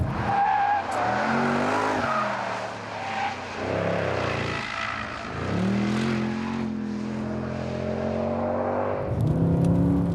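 A Mercedes C63 AMG V8 sedan on a circuit screams through rising and falling revs, tires squealing and skidding through corners, loud and close with no talking.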